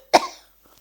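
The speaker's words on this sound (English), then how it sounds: "I need to cough." A single sharp human cough, close and fairly loud, with a brief rasping tail fading out after it and near silence around it.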